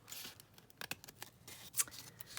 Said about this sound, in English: let's just trim that down across there